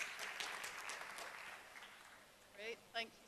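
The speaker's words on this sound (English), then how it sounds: "Let's give everyone on stage a round of applause" Audience applause for people taking the stage at a conference, a quiet, fairly distant patter of clapping that thins out, followed by a couple of brief voice sounds near the end.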